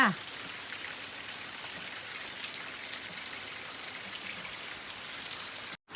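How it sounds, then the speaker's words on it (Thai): Steady rain falls in a dense, even hiss of drops on surfaces, continuous and fairly soft, with a brief cutoff near the end. "เบิ่งบรรยากาศฝนตกค่ะทุกคน"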